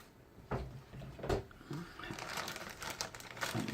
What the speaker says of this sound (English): Open the bag and see what we got.